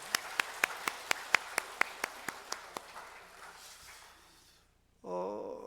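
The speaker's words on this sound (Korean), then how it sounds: "우리 각자에게 감사의 박수를 보내겠습니다" A church congregation at a Sunday morning service claps in steady unison, about a dozen even claps that fade out in a reverberant hall, followed by a voice.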